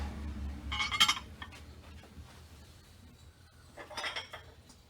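Hand-painted Japanese china dishes clink and rattle as they are lifted from boxes, with two bright bursts of contact a few seconds apart and quieter handling noise between them.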